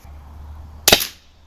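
An RTI Prophet air rifle, recently repaired for an air leak and tuned, fires one sharp shot. The close, loud crack comes alone over a faint low hum, with a brief decaying tail.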